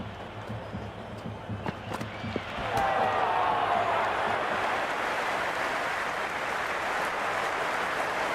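Crowd roar swells from a stadium in the cricket video game Cricket 26, a broad steady wash of cheering that rises sharply partway through and holds loud, with commentary voices and faint thuds early on.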